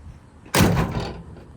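A Chevrolet Squarebody truck door is shut gently, giving one solid close-up thud with a short ringing tail and no voices.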